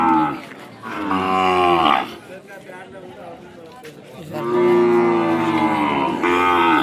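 Ongole cows and calves at the Kodad cattle market low loudly in two long moos, one early and one late, with someone talking over the middle stretch.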